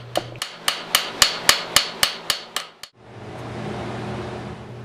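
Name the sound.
small cross peen hammer spreading rivet head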